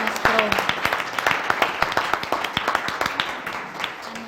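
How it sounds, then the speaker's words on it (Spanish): A seminar audience claps to welcome the day's speaker at a Spanish-language talk on the crisis of capitalism and multipolar geopolitics, with distinct, fairly sparse hand claps in an irregular patter at moderate volume. "Yo quiero pedirles que le demos un aplauso"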